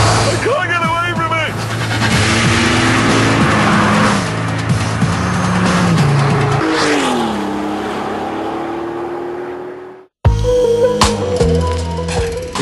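A Volkswagen Golf GTI fitted with a W12 engine accelerates hard, its engine note climbing through the gears with loud, rising roars and a brief cut before pulling again, with talk mixed in.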